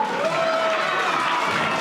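Wrestling fans in a pavilion arena during a women's championship match cheer and applaud, a steady dense roar of clapping and crowd noise filling the whole moment without pause.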